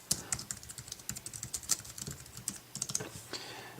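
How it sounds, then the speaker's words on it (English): Rapid typing on an iPad Keyboard Dock paired with an iPod Touch 4G, a steady run of light, crisp key clicks close to the microphone with no voices. "so that will allow us to type in all caps"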